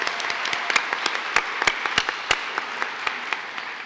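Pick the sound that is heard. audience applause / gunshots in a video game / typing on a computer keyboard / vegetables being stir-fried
audience applause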